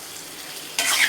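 Egg cooking in a pan on low heat is stirred gently, soft scraping and faint sizzle giving way to a sudden louder burst of frying hiss near the end.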